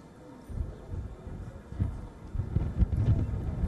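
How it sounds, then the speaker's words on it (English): Gusty wind buffets the microphone in uneven low rumbles, growing stronger toward the end. "It's windy here"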